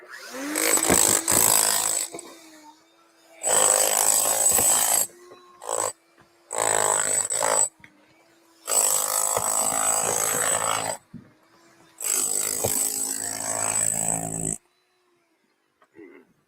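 A leaf blower runs in loud bursts during a chimney demolition, starting and stopping several times with near roaring stretches separated by short pauses, a low idle hum audible between bursts.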